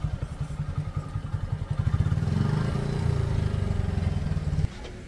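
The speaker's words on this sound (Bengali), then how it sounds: "বাইকটা আমরা এখানে রেখে দিব।" A motorcycle engine idling and running close by as it is pulled up and parked at a park, with a steady low throbbing rhythm that swells slightly before cutting off near the end.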